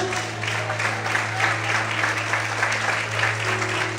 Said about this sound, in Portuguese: Quantos podem aplaudir e adorar a Ele em nome de Jesus?